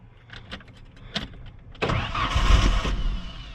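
A few clicks and cranking, then a small truck's engine catches with a roar and runs briefly at close range before dying from fuel starvation, with Red Bull in the gas tank.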